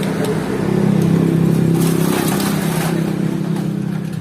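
Tuned 2019 motorcycle engine with a 71 mm piston, 66.2 mm stroke and CB finishing, running steady and loud with a continuous mid-pitched drone and slight rising revs, close by and with no talk.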